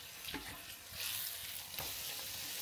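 Çiğ börek pastries frying in hot oil, with a dense continuous sizzle and a few soft knocks of handling, close and steady, no voices.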